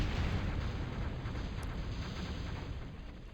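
Weapon fire in the real-time strategy game Total Annihilation, a dense, sustained rumbling barrage of booming artillery-like blasts, loud and continuous without any talk.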